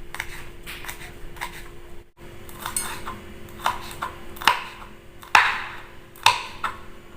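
A knife chops chili peppers on a board in a home kitchen: sparse, irregular sharp taps and clicks, a few louder strikes near the end, over a quiet room with no talking.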